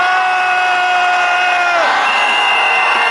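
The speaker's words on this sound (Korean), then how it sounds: "힘차게 함수 한번 치겠습니다" Families of Sewol ferry victims marching to within 100 m of the Blue House, their crowd shouting a rallying cry together, a loud sustained roar of many voices with drawn-out shouts that dip and rise again.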